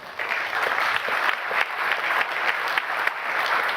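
Audience applause at an award ceremony, a steady dense clapping from a crowd that fills the whole stretch without pause.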